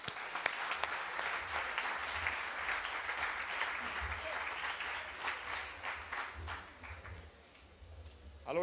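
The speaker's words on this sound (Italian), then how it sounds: "ci vuole un grande applauso per tutti i giovani padani" A crowd at a political rally applauds with dense, sustained clapping that gradually fades out, a voice briefly audible as it dies away.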